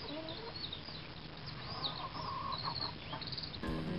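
Hens clucking in a Postman Pat episode, steady overlapping clucks and short calls at moderate loudness, with a brief thump near the end.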